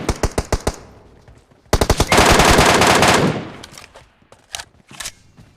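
Automatic gunfire from PUBG Mobile Metro Royale: a loud, close series of rapid shots, then a sustained burst, followed by scattered single shots.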